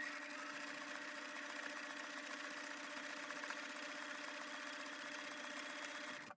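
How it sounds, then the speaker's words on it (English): A sewing machine running a steady zigzag stitch along raw fabric edges, a continuous even mechanical whir held for several seconds before stopping abruptly at the end. "We're going to do a zigzag stitch on both raw edges."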